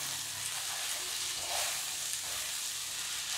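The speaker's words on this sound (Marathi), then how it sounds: "आता आपल्याला ह्या भेंड्या भाजलेल्या घालायच्या आहे. आणि हे ढवळून घ्यायचं आहे." Roasted okra frying in a pan over cooked spices, a steady close sizzle with faint stirring scrapes.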